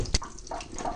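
Beans being rinsed under running water: a soft, steady trickle and splash with one sharp knock near the start, fairly quiet and close, with no talking.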